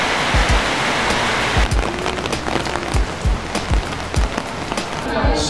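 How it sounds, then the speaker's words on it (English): Rain pours steadily during the rainy season, a dense continuous hiss broken by frequent sharp drips and taps landing close by, with no other sound over it. "One of the things you have to deal with here is rain."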